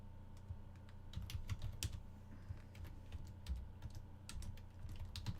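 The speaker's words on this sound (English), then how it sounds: "I'm just typing these up." Typing on a computer keyboard, with quick irregular clicks and bursts of keystrokes that are close and fairly quiet and have no talk over them.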